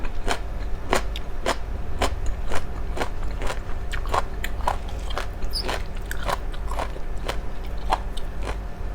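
Crisp, steady crunching of crispy noodles chewed with som tam, papaya salad with black crab sauce, close to the mic, about two bites per second with no talking.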